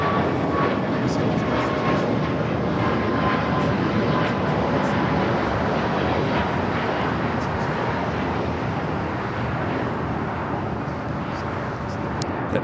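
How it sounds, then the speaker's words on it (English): Boeing 737 MAX 8 jet taking off from Los Angeles airport, a steady broadband engine roar holding loud and constant throughout, with some voice murmur in the background. "A flight taken off heading to Vegas, flight 2002 at 737 to MAX 8"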